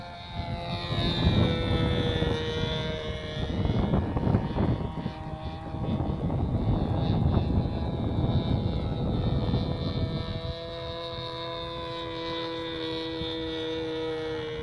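A Sig Smith Miniplane radio-controlled model airplane flies at Hemet Model Masters in California, its small engine buzzing loud and steady, swelling and easing with throttle before settling into a thinner, more distant whine.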